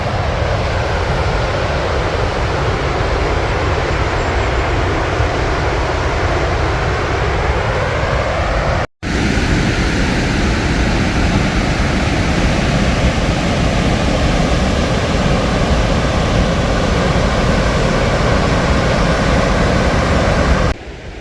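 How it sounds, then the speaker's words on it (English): A massive Icelandic waterfall roars as a steady, dense broadband rush, loud and unbroken apart from a brief dropout midway, with no voices over it. "massive waterfall behind me"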